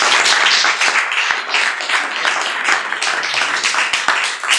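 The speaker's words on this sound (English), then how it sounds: "Please give them a warm round of applause." Audience applause greeting a delegation at an event, a dense, steady burst of clapping from many people that holds throughout and tapers slightly at the end.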